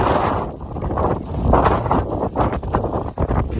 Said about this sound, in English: it is windy. You can hear it like coming before it actually hits you